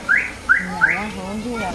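A car horn gives three quick rising electronic chirps, followed by a wavering siren-like tone. It is loud and close.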